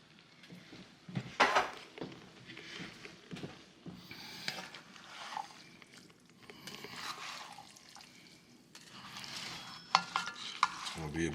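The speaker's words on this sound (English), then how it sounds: "Should probably give this a stir." A big pot of homemade tomato chili is stirred in a cabin kitchen, with irregular bursts of scraping and sloshing against a low bubbling sizzle, at fairly quiet levels.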